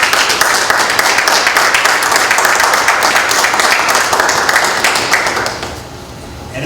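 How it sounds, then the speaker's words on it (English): An audience at a school board of education meeting claps for the school staff, a dense, even round of applause that holds steady and then fades out near the end. "I encourage us to give all of the staff a round of applause as well."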